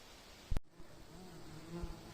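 Honeybees buzz near beehives in the Carpathian mountains, a faint, steady hum after a brief sharp knock, heard outdoors without speech.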